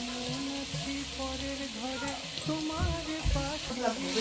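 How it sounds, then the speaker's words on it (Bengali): Garlic fries in hot oil with a steady, close sizzle throughout, joined by stirring scrapes and a few louder clatters near the end. "এখন তেল গরম হয়ে গেছে এখন দেব আর রসুন"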